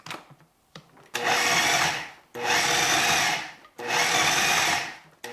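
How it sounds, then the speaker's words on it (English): A food processor pulses butter into a keto rhubarb crisp topping, three loud whirring bursts of about a second each, separated by short quiet gaps. "you're going to pulse that until it resembles coarse crumbs"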